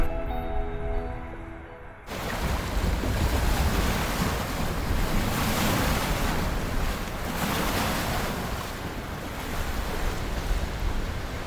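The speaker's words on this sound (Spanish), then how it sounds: "Ahorita lo que quiero que escuchen es el mar." Ocean surf roars continuously against the shore with gusting wind buffeting the microphone, following a brief quieter moment at the very start.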